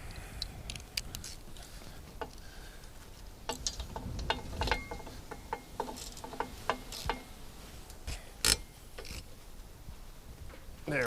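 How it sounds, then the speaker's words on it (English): A ratchet tightens bolts on a Jeep tire carrier hinge, giving quiet scattered clicks and metallic ticks in uneven bursts, close but faint. "I'm gonna go ahead and tighten the rest of these bolts"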